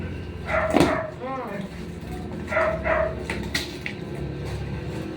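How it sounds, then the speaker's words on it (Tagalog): A few dog barks ring out, one sharp and close, others more distant, mixed with background voices and household noise. "maraming aso sa baba"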